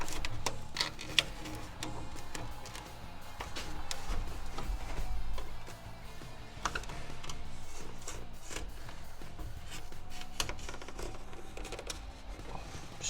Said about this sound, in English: we're just going to stuff this cardboard in here and try and make a little template out of it